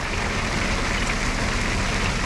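Hail falls in a dense, loud, continuous hiss of impacts, unbroken and even throughout, with no voices.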